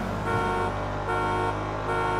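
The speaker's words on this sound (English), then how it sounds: "And the alarm still going off on me." A stolen unmarked police Cadillac Blackwing in GTA FiveM blares its car alarm, a loud, steady electronic tone that shifts pitch in short repeating stages, alone and close.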